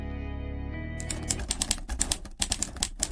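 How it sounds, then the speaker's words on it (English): After a low hum, the keys of an old, heavy typewriter clack in quick, uneven bursts, sharp and close, with brief pauses between strokes. "The rhythmic click-clack of the keys blended with the sound of the crickets outside."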